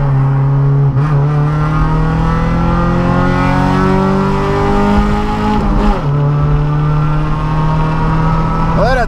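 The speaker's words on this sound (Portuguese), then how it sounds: "Manda uma retomadinha de segunda pra galera ver como o carro é da hora." A loud, naturally aspirated Chevrolet Kadett with a straight-through exhaust and carburetor roars steadily as it accelerates in second gear, its revving pitch climbing and shifting over several seconds, close and continuous.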